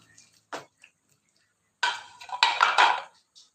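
A lid goes back onto a pot of boiling chicken tongseng on the stove, a single metallic clink followed by a short rattling clatter of metal on metal, close and alone.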